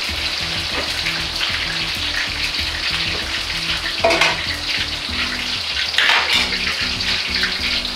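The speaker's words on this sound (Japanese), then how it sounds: "エビも揚げていきます。" Shrimp deep-frying in hot oil for a shrimp and potato gratin, a loud continuous bubbling sizzle with two brief surges of crackling as pieces go in; close and steady, no speech.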